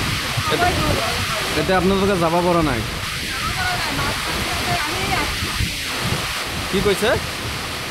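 A sudden heavy downpour breaks through hot weather in Assam, a steady broad hiss of rain filling the background while people talk over it.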